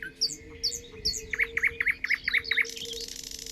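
Bird song in an open forest setting: a few separate chirps, then a quick run of about six bright, evenly spaced notes, fairly close and clear.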